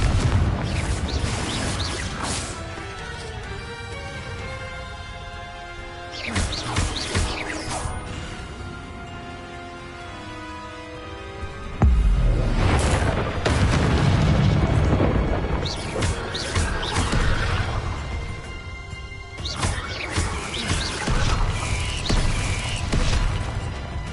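Repeated Confringo fire spells blasting in the Hogwarts Legacy video game, heavy booms and crashing impacts over a dense game soundtrack, with a big loud hit midway and further explosive bursts after, close and full.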